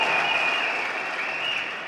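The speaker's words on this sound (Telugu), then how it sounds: "నన్ను చూసి ఇంతమంది చప్పట్లు పడుతున్నారండి అనుకుంటాను" Steady, dense applause from a large crowd of JanaSena party supporters greeting leader Pawan Kalyan at a Prakasam District gathering, loud and continuous throughout with no voices on top.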